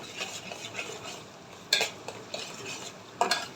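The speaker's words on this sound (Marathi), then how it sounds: "मी ते फुल गॅस केला त्यामुळे मी असं हलवते नाही तर खाली चिटकेल आपलं वाटण" Thick ground masala paste being stirred and scraped around a pan over full flame, soft sizzling beneath with a few sharp metal scrapes of the spoon against the pan, close and fairly quiet.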